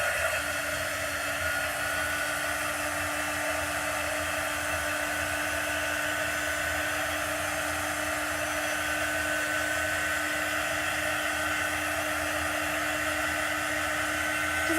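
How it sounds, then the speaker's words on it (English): A hair dryer blows steadily to dry chalk paste on a wooden piece, a constant close whooshing whine that holds unchanged throughout, with no talking. "I'm just gonna dry it for a second."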